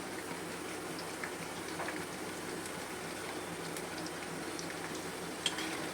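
Pakoras sizzle in hot oil with a dense, steady crackle and hiss, scattered pops breaking through the continuous frying noise, close and moderately loud with no talking.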